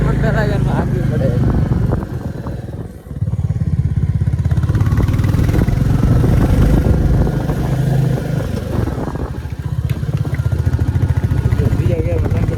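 A vehicle engine labours uphill in first gear on a hill road near Shimla, a loud, steady low drone that dips briefly around three seconds, with people talking over it throughout.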